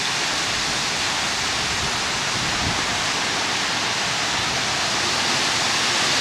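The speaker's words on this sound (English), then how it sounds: "See the waterfalls out there." Patio waterfalls pour with a dense, constant close-up rush of splashing water, steady and loud throughout without pause.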